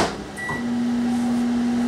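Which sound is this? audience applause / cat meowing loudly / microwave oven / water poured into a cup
microwave oven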